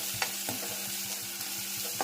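Cumin and salt sizzling in hot oil in a pan while tempering, a steady fry hiss with several soft scraping stir strokes, close and without any voices.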